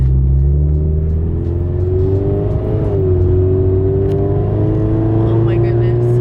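Subaru BRZ/FRS/86 fitted with unequal length headers revving steadily, a deep continuous engine drone with rising and falling harmonics, loud and close, with a brief dip near the middle.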